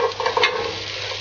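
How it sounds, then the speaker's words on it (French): Sliced carrots sauté with onions in a pan for a veal dish, giving a steady soft sizzle with a few stirring scrapes, close and moderately loud, with no voices. "on va faire un petit peu revenir les carottes dans nos oignons"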